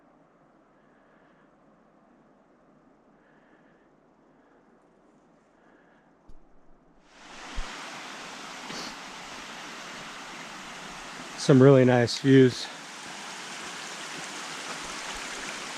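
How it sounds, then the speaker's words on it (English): Snowmelt from Mount Hood's glacier rushes down the Muddy Fork stream. After a quiet start it becomes a steady, broad wash of flowing water that fills the rest of the moment, and a voice briefly speaks over it. "I can hear the water flowing down below"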